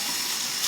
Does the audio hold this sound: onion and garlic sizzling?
no